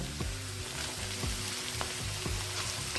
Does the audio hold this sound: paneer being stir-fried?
yes